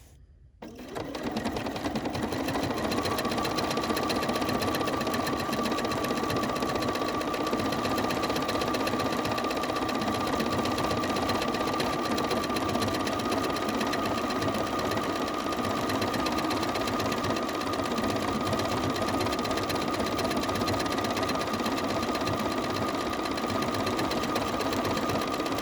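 A sewing machine runs continuously, sewing decorative stitches onto a postcard, its even motor hum and rapid needle chatter close and steady after a brief quiet start.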